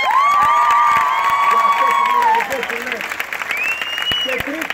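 A live studio audience at a Greek Survivor TV show applauds and cheers loudly, with shouts and whoops rising over steady clapping while a host's voice carries on across the noise.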